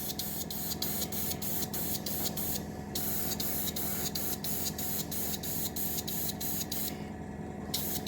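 Spray paint hissing steadily onto a model in camouflage colours, close and continuous, broken by short pauses between bursts of new paint.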